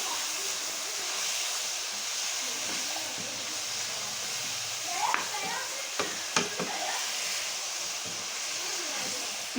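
Green chillies, freshly chopped, go into a pan of vegetables frying for a Punjabi aloo matar chicken moongre sabzi, giving a steady broadband sizzle with a few sharp clatters of stirring near the middle and no talk.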